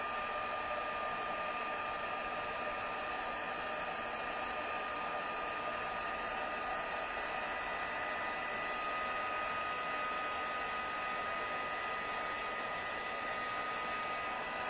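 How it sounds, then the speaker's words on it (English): A heat tool blowing hot air over a stamped card, giving a steady, loud, close whooshing whir that runs unbroken for about fifteen seconds with no talking. "So we can now heat that with our heat tool."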